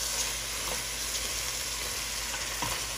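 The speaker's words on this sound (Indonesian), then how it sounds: "Ini kita akan aduk sebentar seperti ini." Rawon beef rib soup darkened with keluak being stirred in a pan, giving a steady close sizzling hiss with faint scraping touches throughout.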